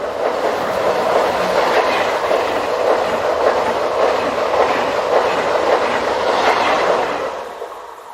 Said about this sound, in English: Here a pair of TGV Réseau sets, numbers 546 and 549, head east through Stambach with a train for Strasbourg